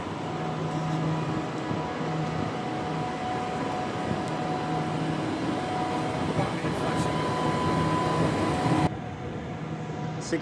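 Two coupled C-series electric trains at Ellenbrook Station on the new Ellenbrook Line, a steady low rumble and hum of traction and air-conditioning equipment with faint tonal whine, continuous and fairly loud, dropping slightly near the end.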